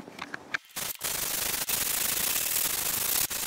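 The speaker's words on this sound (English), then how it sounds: "I've only done 80 grit, so now I'm going to move on to 180 grit." Fiberglass body kit being sanded with 180 grit sandpaper, a steady close, loud abrasive scraping that starts after a few brief strokes and runs continuously with short pauses.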